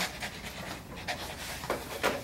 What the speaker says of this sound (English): it's just a lot of breathing, hard breathing.